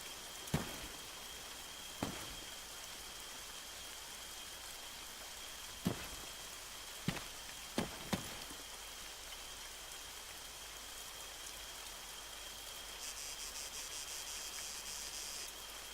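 Steady rain hiss in the Arma 3 battle royale mod, with a few sharp isolated impacts scattered through it and a brighter patch of noise near the end; no talking.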